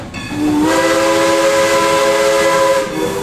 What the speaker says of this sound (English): that is making a clay whistle